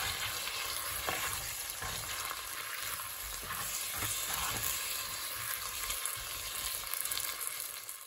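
Tofu simmering in a thick sweet and sour sauce in a pan, a steady close sizzle and bubbling with occasional stirring scrapes throughout.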